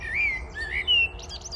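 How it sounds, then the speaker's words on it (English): Small birds chirp and tweet in quick, light calls, faint against a quiet outdoor background. "Listen to the birds."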